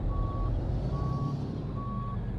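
Truck reversing alarm in the American Truck Simulator game, near heavy cargo hauling: three evenly spaced steady beeps ring out over a constant low diesel engine rumble.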